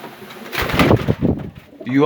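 Pigeons cooing in a loft, soft throaty coos close by with a voice speaking over them and a brief flutter near the end.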